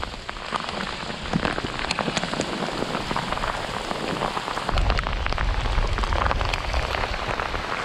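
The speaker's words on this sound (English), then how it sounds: "Oh, we're getting hail. We're getting hail." Hail mixed with heavy rain pelts a surface outdoors during a stormy day of fishing on the Delta in California, a dense continuous patter with sharp impacts and no talk.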